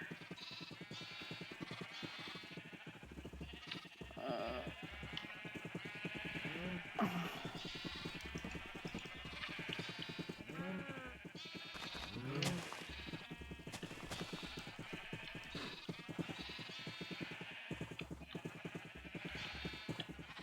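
Bleating from a flock of Minecraft sheep comes again and again over a busy, continuous game background, with several distinct calls standing out clearly.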